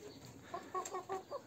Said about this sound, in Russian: какая замечательная курочка